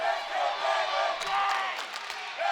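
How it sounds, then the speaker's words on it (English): Fans at a high school wrestling dual championship cheer and yell in a gym, a loud sustained crowd roar with sharp whoops and shouts rising near the end, commentary voice underneath. "Crowd really getting into it here."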